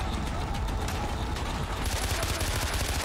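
Machine gun fire in the game Far Cry 4, a dense continuous rattle of rapid shots that grows sharper and more distinct partway through, loud against steady background noise.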